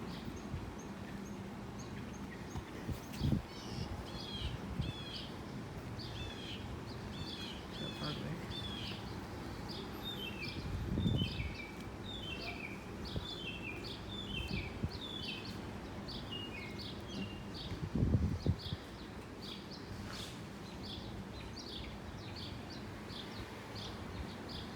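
Repeated high chirping bird calls at Prospect Park Zoo sound steadily at a distance over a low background rumble, with occasional soft thumps.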